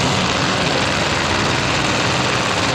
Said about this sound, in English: Front engine dragster, fuel, nitromethane.